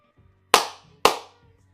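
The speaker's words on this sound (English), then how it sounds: "That was a really bad clap." Two sharp, isolated hand claps about half a second apart, close and dry, each with a short decaying tail over quiet background.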